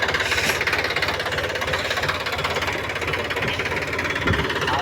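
A tractor engine runs hard and continuously close by, with a rough, knocking rumble and vibration, as the tractor is driven balanced on one tyre in a farm field.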